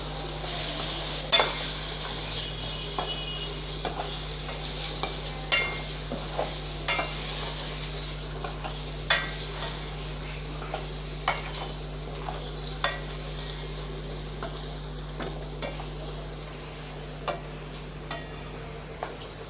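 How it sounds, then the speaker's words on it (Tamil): Chicken being stir-fried in a pan for chicken curry, a continuous soft sizzle punctuated by regular sharp scrapes and taps of a spatula against the pan, close and without talk. "ஒரு 2 நிமிஷம் நல்லா நம்ம சிக்கனை வதக்கி விட்டுறலாம்."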